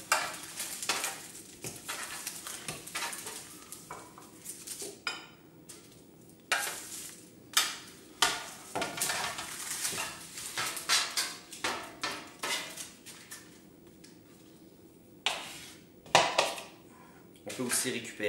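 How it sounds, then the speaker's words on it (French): Roasted potatoes, radishes and fennel are tipped and scraped into a salad bowl, giving a series of close clinks, scrapes and knocks against the bowl in irregular bursts, with quiet gaps between them. "J'envoie le tout dans un saladier ou un bol."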